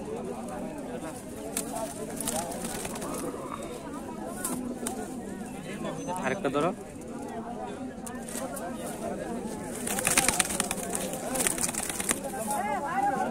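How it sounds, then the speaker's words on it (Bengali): Pigeons coo and shuffle at a busy outdoor pigeon market in Bangladesh, a soft bird murmur under constant crowd chatter and close conversation, with a brief flutter near the end. "কি কি কবুতর আছে"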